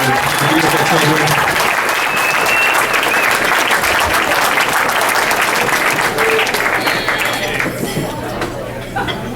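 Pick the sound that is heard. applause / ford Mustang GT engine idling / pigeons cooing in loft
applause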